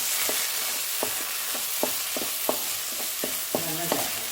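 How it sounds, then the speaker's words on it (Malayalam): A ground masala paste fries and is stirred with sautéed onions in a pan for Chettinad chicken curry: a steady soft sizzle broken by regular scraping strokes of a spoon, alone and fairly quiet. "ഉള്ളി വഴറ്റിയെടുത്തിട്ട് ഞാൻ ഇതിനകത്തേക്ക് ഇനി ആ അരപ്പെടുത്ത് ചേർക്കാൻ പോവാണ്"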